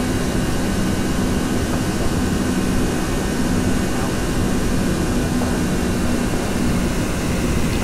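An Airbus A320 descends in flight in the X-Plane 10 simulator, giving a steady, even roar of jet engine and cabin air noise with no speech.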